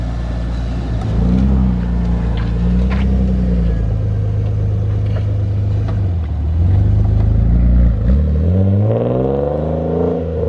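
An RB25-powered Nissan Skyline R34 runs with a deep, steady engine rumble that rises and falls with revs, then pulls away with the heavy-duty clutch as pitch climbs near the end; loud and close, with no talk.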